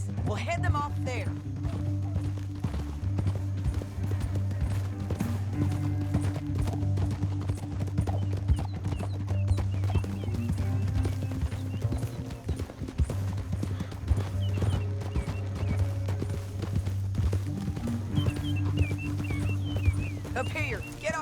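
Horses gallop in Red Dead Redemption 2, with rapid, continuous hoofbeats under a steady low drone of game music and occasional talk, running without pause for about twenty seconds.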